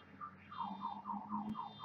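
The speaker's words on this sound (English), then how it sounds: "I had to turn my car alarm off. My motorcycle set it off." A car alarm, set off by a passing motorcycle, sounds in a repeating warbling siren pattern with rising and falling tones. It is fairly faint and seems some distance away, with a brief click near the end.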